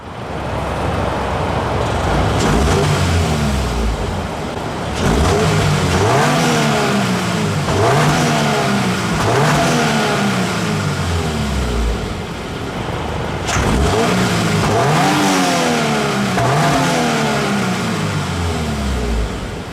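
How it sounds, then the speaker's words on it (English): A 2022 Subaru BRZ engine revs up repeatedly through the gears, each rising pull cut by a shift, loud and close for the whole stretch with no talk. "having the option to be able to turn it off and hearing the actual engine sound is pretty cool"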